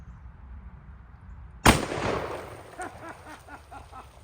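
A single booming gunshot from a Taurus Raging Hunter .460 revolver fired outdoors, sharp and loud after a quiet lead-in, followed by a fading echo and a faint rhythmic rustle.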